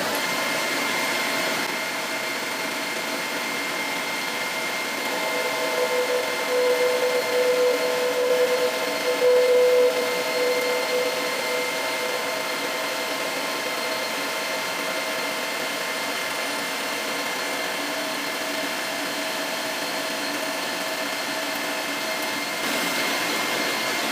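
A grinding machine takes half a millimetre off a metal part on a grinding fixture with an indexing attachment, a steady broadband whirring hiss that holds for the whole stretch with no talk.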